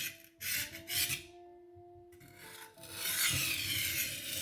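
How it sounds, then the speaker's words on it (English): A Hatori rolling knife sharpener rolled along a kitchen knife blade with its diamond and steel ends, giving close, loud rasping rubs in short bursts with a brief pause between passes. "Then roll with the diamond end and the steel end once again."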